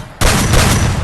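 Gunfire in the Free Fire video game, a sudden loud burst that opens after a short quiet lead-in and holds as a dense rattling volley to the end.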